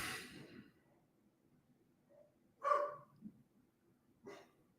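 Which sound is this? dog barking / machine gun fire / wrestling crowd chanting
dog barking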